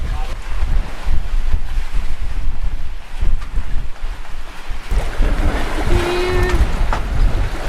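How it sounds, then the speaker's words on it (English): A sailboat tacking through rough seas, hull slamming and jumping off waves amid steady wind roar and rushing water, with a sharper surge of spray and splash near the end. "jumping off of waves and a lot of slamming going on"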